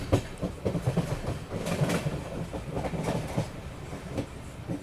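Amrit Bharat Express passenger train rolling along the line through Kerala near Kayamkulam Junction, a steady loud rumble from inside with rhythmic clickety-clack of wheels over rail joints and no talking.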